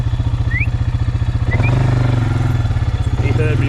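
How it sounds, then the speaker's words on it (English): A farm vehicle engine with a pulsing idle that rises as it is revved, then falls back to its rhythmic chug, close and loud, with someone speaking briefly over it. "He heard me rev the engine."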